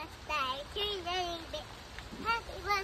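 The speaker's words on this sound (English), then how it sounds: "Oh, look at this terrible rain." Heavy rain falls outdoors as a constant hiss in the background, while children's voices talk and call over it.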